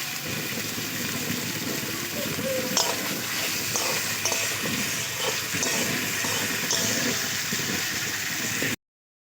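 Potatoes fry in plenty of oil with a dense, steady sizzle and crackle, broken by occasional light clicks and stirring. The hiss runs close and even throughout, then cuts off abruptly at the end.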